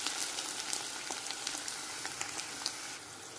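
Onions fry in a pan with a steady, faint, close sizzle and small crackling pops, continuous and alone without talk.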